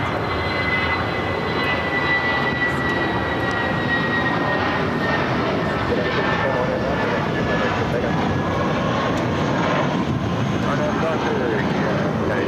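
Airbus A320 jet airliner at LAX roars steadily through the whole stretch, a broad continuous engine rumble with a high whine on top, while a voice talks over it.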